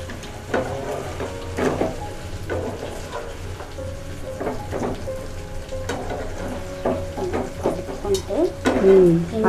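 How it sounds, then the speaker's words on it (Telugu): Fried fish pieces go into a tempered gravy for fish pickle, giving a crackling sizzle with bursts of stirring and pan clatter, close and fairly loud, while people talk intermittently. "వేయించి పెట్టుకున్న చేప ముక్కలు కూడా వేసేస్తుంది"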